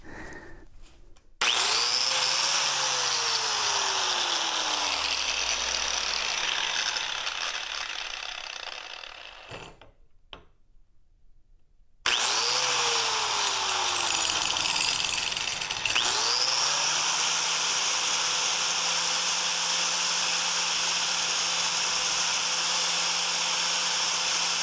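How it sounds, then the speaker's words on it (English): An angle grinder cuts into a thick part for a Begode EX30 coil shock upgrade, held in a wooden clamp fixed to a tabletop. Two long, loud bursts of grinding with a whining spin-up and spin-down are separated by a brief pause. "I have it clamped in my wooden clamp, which is clamped to my tabletop. Gonna use a grinder."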